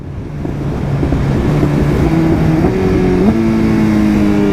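A BMW S1000RR sport motorcycle accelerates hard in sixth gear during a drag race, its engine droning loud and close with a steady rising pitch and a gear-like step up partway through, and no talking over it.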